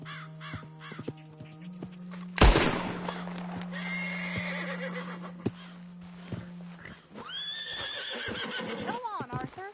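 A horse neighs and whinnies over a steady low drone, with hoof clops and bird calls around it, then a burst of noise and more whinnying near the end; people talk at points.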